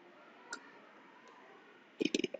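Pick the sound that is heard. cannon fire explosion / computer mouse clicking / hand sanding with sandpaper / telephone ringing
computer mouse clicking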